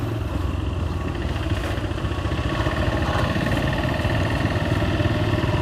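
A motorcycle being ridden, its engine giving a loud, steady, close throbbing drone mixed with rumbling wind noise throughout.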